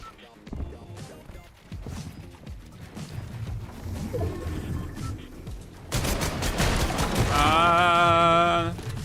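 Video game gunfire, bursts of rapid shots and sharp cracks growing louder and denser toward the end, mixed with people talking over the shooting.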